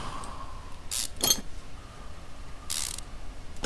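Wheel bolts being removed with a wrench in Car Mechanic Simulator 2015, heard as two short bursts of ratcheting over a faint steady hum.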